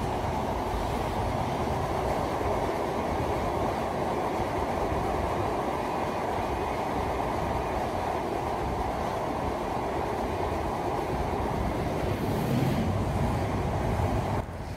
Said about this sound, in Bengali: অবশেষে আমাদের ট্রেন প্রবেশ করল স্বপ্নের পদ্মা সেতুতে।